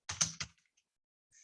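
A few quick keystrokes on a computer keyboard while a MySQL command is entered, a close burst of three crisp clacks followed by near silence and a faint click at the end.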